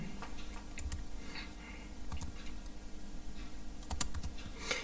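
Computer keyboard keys tapped in a steady run of light clicks while writing in WordPad, close and fairly quiet, with no talking.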